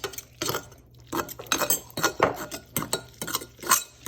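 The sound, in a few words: spoon mixing tuna and mayonnaise in a bowl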